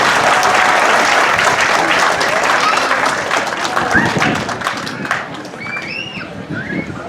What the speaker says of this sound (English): Let's give a round of applause for Andres Chavez and Paul Chavez